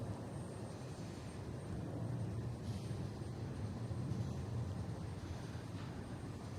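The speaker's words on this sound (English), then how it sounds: "There's JetBlue here heading to San Juan. A320, flight 661." A JetBlue Airbus A320 airliner at Boston Logan airport gives a faint, distant low rumble, a steady engine roar heard from across the runways with no talk.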